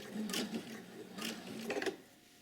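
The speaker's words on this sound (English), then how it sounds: "So I'm just going to stitch really" Sewing machine stitching a single welt coat pocket, a few short quiet bursts of mechanical whirring and clicking stitches, close and faint with pauses between them.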